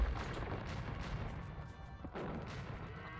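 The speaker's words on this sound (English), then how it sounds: "And Miguel doing a great job with these bombard cannons." Heavy booming bombard cannon blasts and crashing impacts from a video game battle, several rumbling shots overlapping in a dense, loud barrage.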